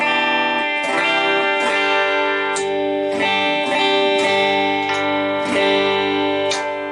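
A 1950s Les Paul Gold Top electric guitar plays ringing clean chords through a Tokai TCH-1 chorus pedal into a Katana 100-watt 1x12 Mark II amp on its clean channel with light reverb, the notes shimmering and sustaining steadily.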